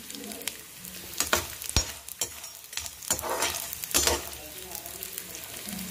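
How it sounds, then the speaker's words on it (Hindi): Almonds and cashews roast in ghee in a pan, giving a steady close sizzle. Irregular sharp clicks and scrapes from stirring break through it over the whole span. "देखिए अब मैंने इसमें बादाम डाल दिए, सब काजू भुन चुके हैं।"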